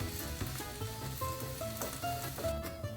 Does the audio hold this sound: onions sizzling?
yes